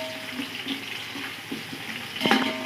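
Sliced onions fry in hot oil for chicken biryani, a soft, steady sizzle at low volume, with a brief louder clatter near the end.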